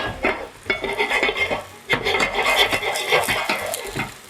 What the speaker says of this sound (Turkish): Görüyorsunuz soğanı bıraktım yağ ile birlikte ufak ufak pişiyor.